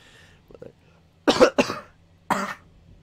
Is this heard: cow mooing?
no